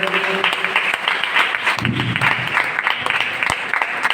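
An audience applauds at a gratitude ceremony, a steady, dense wash of clapping filling the room throughout with no voices.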